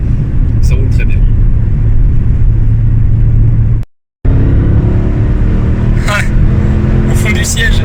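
A 2005 Chrysler 300C with a 5.7-litre V8 Hemi on the road, heard from inside as a steady low engine and road rumble under ongoing talk, with a brief cut and a slight rise as it accelerates.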